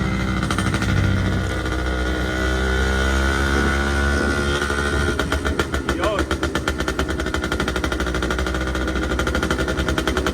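A Kawasaki Brutus 140 motorcycle with a Tanay silencer idles and revs, the exhaust building into a rapid, throaty popping rumble, loud and close, with no other sounds.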